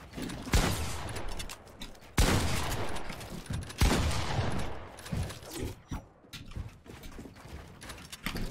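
A no-scope sniper shot in a video game arena fight, amid heavy game gunfire: several loud sharp shots ring out with decaying tails, followed by a scatter of quicker clicks and impacts.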